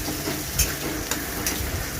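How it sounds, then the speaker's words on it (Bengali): Onions sizzle steadily in white oil in a kadai, a soft continuous crackle and hiss with a few brief stirring scrapes, heard alone and fairly quiet. "দেখো আমার পেঁয়াজটা প্রায় ভাজা হয়ে এসছে।"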